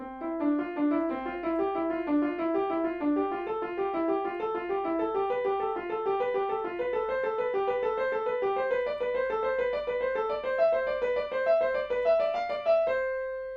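Piano runs up and down in smooth, even stepwise notes, a thumb-passing scale exercise played hands separately at moderate tempo for over ten seconds, with no talking.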